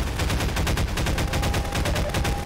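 Rapid automatic gunfire rattles without a break in Half-Life 2, a dense, loud stream of evenly spaced shots that keeps going for the whole stretch.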